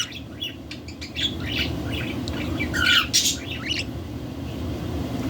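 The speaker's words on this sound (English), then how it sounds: "I might as well get used to my new life as a baby Budgie's toy." A baby budgie chirps and squawks in quick, scattered bursts close by, over a steady low background rumble, with no talk.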